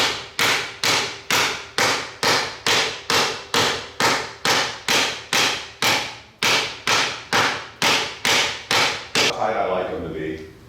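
A woodworker chops with a chisel and mallet at the baseline, striking about twenty loud, evenly spaced blows close by, each followed by a short ring. The blows stop near the end, and a softer scraping tail follows.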